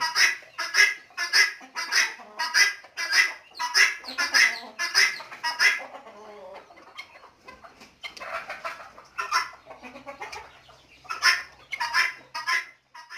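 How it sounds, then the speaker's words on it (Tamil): A female guinea fowl calls repeatedly in a fast, rhythmic series of harsh, rasping notes, pauses briefly, then resumes the chattering bursts nearby. "இது வந்து பெண் கோழியோட சத்தம் இது பெண் கிண்ணி கோழியோட சத்தம்"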